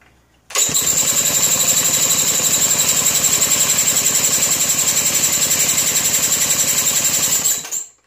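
A circa 1932 Maytag hit-and-miss engine cold starting: it catches abruptly and runs with a loud, close, rapid steady chugging and a bright metallic overtone for about seven seconds before cutting out.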